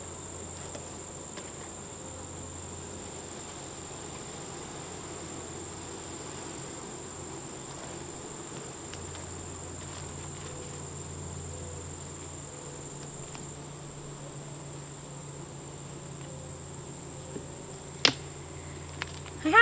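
Honey bees drone at an opened hive during an inspection, a soft, continuous hum with a faint high steady tone above it and a couple of sharp clicks near the end.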